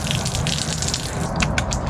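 Steady rush of hot water pouring from a tap in a 2018 Travato camper van, close and continuous, with a few brief clinks partway through.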